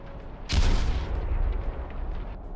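A sudden loud blast erupts as burning scrap metal beneath a bridge is blown apart, followed by a sustained rumbling roar and crackle that slowly fades over the next two seconds.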